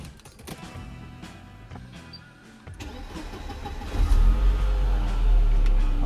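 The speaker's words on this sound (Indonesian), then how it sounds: "sekarang kita coba dengerin mesinnya dulu kayak gimana bunyinya" A 1995 Mercedes-Benz W124 in Polar White is started, key clicks and cranking giving way to a deep, close engine idling steadily and loudly.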